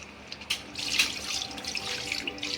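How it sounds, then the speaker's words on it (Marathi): Water pours steadily into a pot of chicken biryani being cooked, a splashing, gurgling rush with a few sharp clinks, fairly close and soft. "आता आपण त्यात 1 तांब्या पाणी घालूया"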